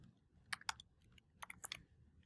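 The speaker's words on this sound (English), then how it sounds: "I can type in their email address." Quiet keystrokes on a computer keyboard as an email address is entered, coming in two short clusters of soft clicks separated by a brief pause.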